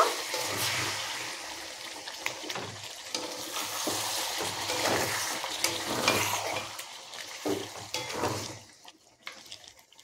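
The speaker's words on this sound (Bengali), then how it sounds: "আমি সামান্য কিছু জল দিয়ে দিচ্ছি, দিয়ে মাংসটাকে ভালো করে নাড়াচাড়া করে নেব" Water poured into a pot of mutton curry with ground spice paste, then the meat stirred, giving a steady splashing, sizzling wash with repeated scraping strokes, close and fairly loud, easing off at the end.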